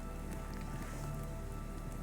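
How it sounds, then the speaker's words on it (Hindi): Heavy rain falls at night in the wild, a dense, steady patter on surfaces with scattered droplet ticks, constant and unbroken. "और घनघोर बारिश शुरू।"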